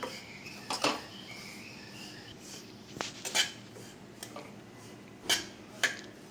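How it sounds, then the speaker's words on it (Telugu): Bombay rava roasting in ghee in a pan, stirred carefully with a spoon: a few sparse, sharp clinks against the pan over a faint, quiet background with insect chirping. "దగ్గరే ఉండి జాగ్రత్తగా ఇలా కలుపుతూ వేయించుకోండి"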